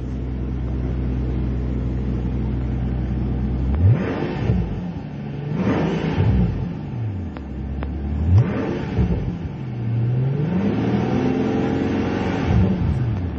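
A rental car with a rev limiter around 3,000 RPM idles, then revs up sharply four times in a row, each rev rising and falling back to a low rumble, close by with no talking.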